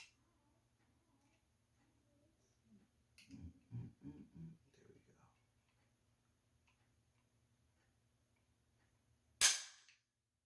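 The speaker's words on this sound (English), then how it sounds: "let's test the trigger" The trigger of a Weatherby Vanguard rifle chambered in .300 Weatherby Magnum is dry-fired in a quiet room, a single sharp, close metallic snap near the end that follows a few soft handling clicks and thumps.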